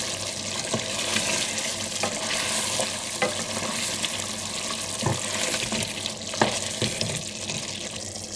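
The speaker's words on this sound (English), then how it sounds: "Let's give this a stir." Chicken pulao with bubbling chicken and gravy is stirred in a pot, a continuous sizzling hiss broken by scattered scrapes and clunks of the spoon against the pot.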